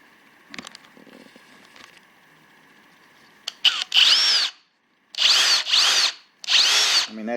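A Kobalt 24V Max brushless power drill runs in three loud bursts of a couple of seconds each, whining up to speed close by after some quieter handling clatter.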